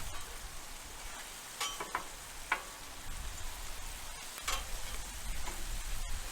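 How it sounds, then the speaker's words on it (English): Clarified butter sizzles on a Blackstone flat-top griddle with a steady close crackle, punctuated by a few sharp scraping clicks as it is spread around. "I just put some clarified butter on the griddle."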